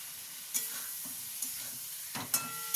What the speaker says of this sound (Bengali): দেখুন আমার এটা কষা কষা হচ্ছে।